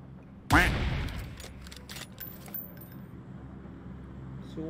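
Gunfire in the mobile battle royale game PUBG Mobile: one loud close shot bursts out, followed by a few fainter cracks trailing off against low background noise.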